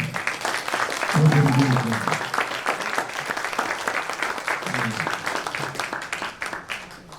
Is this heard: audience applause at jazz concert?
yes